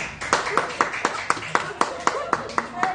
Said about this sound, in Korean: 제가 계산해도 된다고 생각하시는 분들은 박수를 부탁드립니다.